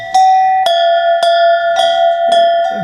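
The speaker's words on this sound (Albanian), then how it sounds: "Janë zile më të rënda, po shumë të mira." Heavy antique livestock bells ring out loud and close, about six evenly spaced strikes, each clang leaving a sustained metallic tone that overlaps the next, with no voices.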